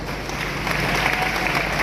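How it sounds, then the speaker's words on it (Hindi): An audience claps at a Hindi comic poetry gathering, a kavi sammelan, producing a dense, steady wash of applause that holds at even loudness for a couple of seconds, with faint voices beneath. "इसमें ताली बजाने वाली कोई बात नहीं थी।"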